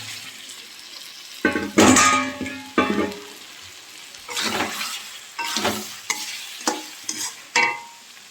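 Fried potatoes are stirred into sizzling chicken masala in a pan, with bursts of spoon scraping and frying noise recurring every second or so, close and clear without talk.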